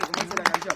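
A small excursion group claps in a quick burst of roughly ten uneven, close hand claps, over and mingled with voices.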